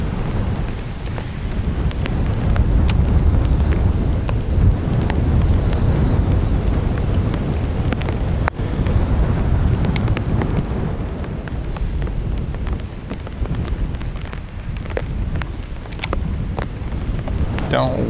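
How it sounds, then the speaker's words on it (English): Steady wind blowing across open water and buffeting the microphone while bass fishing from a boat, a loud continuous rushing roar with low rumble throughout, with occasional faint bumps. "Come on, wind."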